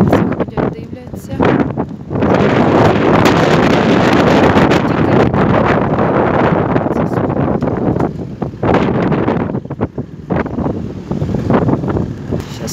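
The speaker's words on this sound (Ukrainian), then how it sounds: "бо він відлетить від такого вітру" Strong wind buffets the microphone at an outdoor race car exhibition in Poland, a loud continuous roar with gusts that swell and ease, heavy and close throughout.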